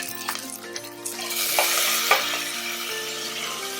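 Chopped tomatoes and garlic sizzle loudly in a hot pan while a spoon stirs and scrapes through them, a continuous close frying hiss with soft clinks; no talking.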